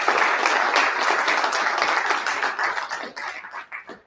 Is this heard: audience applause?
yes